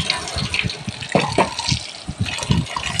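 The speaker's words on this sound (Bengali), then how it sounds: "এবার ডালটা আর আমটা ধুয়ে নিচ্ছি।" Lentils and mango are washed in water, with close splashing, sloshing and dripping in short irregular bursts over a few seconds.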